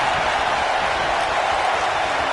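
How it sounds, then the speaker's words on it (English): A wrestling arena crowd in Houston roars and applauds at an NXT TakeOver War Games event, a dense, steady wash of cheering that fills the whole space without letup. "I don't remember the last time I heard a more passionate crowd"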